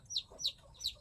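A broody mother hen gives three short, sharp clucks in an even rhythm, close and fairly faint against a quiet background.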